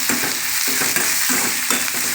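Prawns fry with onions, salt and turmeric in a pan, making a loud continuous close sizzle with rhythmic scraping strokes of a spatula stirring the mixture, and no voices.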